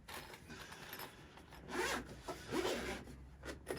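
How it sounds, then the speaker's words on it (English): Zipper on a Bowers & Wilkins PX7 headphone hard case being drawn around in a few quiet, close scraping pulls, with soft rubbing in between. "the case zips around halfway like that."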